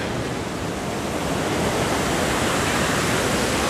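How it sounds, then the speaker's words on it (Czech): The Iguazu waterfalls in Brazil roar in a loud, continuous, dense rush of water with no break, filling the whole scene without any voices. "tamhle jsou další vodopády"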